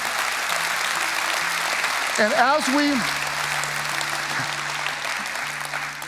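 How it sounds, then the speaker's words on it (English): Church congregation clapping steadily throughout, with a voice speaking briefly over the applause. "You can clap for that if you want to."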